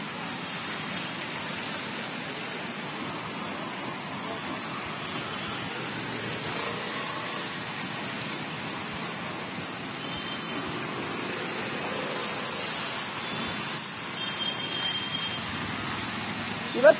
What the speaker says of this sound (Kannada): ಇವತ್ತು ಕೂಡ ಬೆಳಗ್ಗೆಯಿಂದಾನೇ ಸುರಿತಾ ಇರೋ ಮಳೆ ಒಂದು ಕ್ಷಣವೂ ಕೂಡ ಬಿಡುವು ಕೊಡದ ಹಾಗೆ ಸುರಿತಾನೆ ಇದೆ